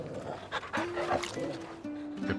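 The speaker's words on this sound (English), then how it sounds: "I could pet this dog." A dog in a video game pants and whimpers softly among busy game sounds, with a person talking over parts of it.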